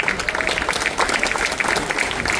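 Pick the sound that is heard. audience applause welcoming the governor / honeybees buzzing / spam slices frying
audience applause welcoming the governor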